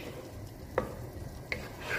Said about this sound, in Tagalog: hayaan lang natin siyang kumukulo